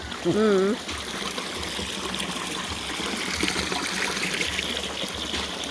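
Flowing water at Mayana waterfall makes a steady, broad rushing hiss throughout, close and continuous, with a brief voice heard near the start.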